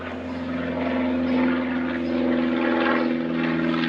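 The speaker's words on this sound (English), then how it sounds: "Excuse the plane." A propeller airplane drones steadily overhead, a loud continuous engine rumble that swells slightly and holds for several seconds with no talk.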